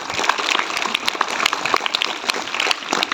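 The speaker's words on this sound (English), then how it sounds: "Give them the applause" A school audience at a student debate claps for the debaters, a short spell of loose, uneven applause in which individual hand claps stand out distinctly within the patter.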